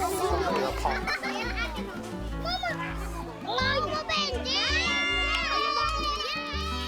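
A crowd of children shouting and cheering excitedly at a meal with a meat side dish, many young voices overlapping in a loud, sustained, lively burst close by.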